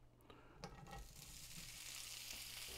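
Sausage browning in a hot pan, a soft sizzling and crackling that builds into a steady hiss, with a few light clicks of stirring near the start.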